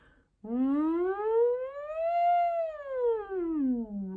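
A single human voice glides smoothly up and then back down in pitch, imitating a siren, with one long sustained sweep.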